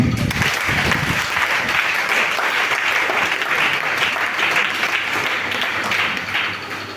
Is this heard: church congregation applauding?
yes